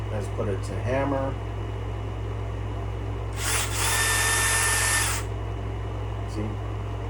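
A DeWalt cordless drill set to hammer mode revs up for a burst of about a second and a half of loud whining hammering, preceded by brief speech and a steady background hum.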